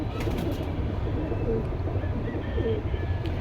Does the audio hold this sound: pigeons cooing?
yes